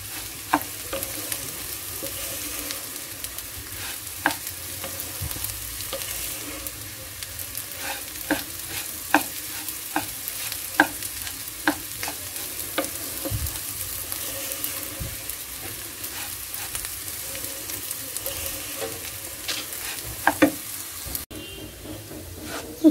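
Rice is stir-fried in a pan, with a continuous sizzle and repeated scraping and clinking of the spatula against the pan throughout. The sound is close and steady, and there is no talk.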